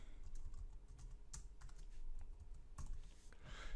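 Fingers type a password on a computer keyboard, sounding as close, quiet, irregular key clicks in quick bursts with no one speaking.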